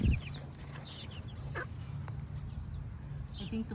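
Backyard chickens and a rooster clucking faintly at a distance, scattered short calls over a steady low background hum, no talk.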